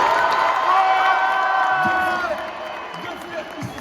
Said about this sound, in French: on peut applaudir une dernière fois les deux combattants qui ont tout donné